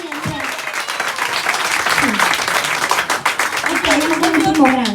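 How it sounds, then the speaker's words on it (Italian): A crowd at a children's birthday party claps and cheers in sustained applause, dense and fairly close, with voices calling out over it. "Facciamo ancora un grande applauso"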